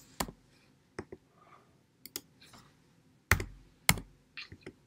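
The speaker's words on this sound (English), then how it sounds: "Do you see as I type it in" Computer keyboard keys tapped in short, sparse bursts of sharp clicks, close and fairly quiet, with pauses between entries of numbers into graphing software for a friction lab.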